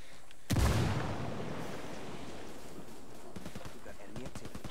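A frag grenade goes off in Ghost Recon Wildlands ranked PvP, one loud blast followed by a rumbling tail and scattered gunfire, with players talking over it.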